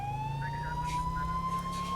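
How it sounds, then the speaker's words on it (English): Police car siren in GTA 5 with the LSPDFR mod, a loud steady wailing tone rising slowly, heard close over a low engine rumble with faint radio chatter. "we're going to go ahead and keep our sirens on"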